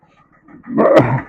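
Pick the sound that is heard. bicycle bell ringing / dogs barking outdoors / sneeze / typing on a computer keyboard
dogs barking outdoors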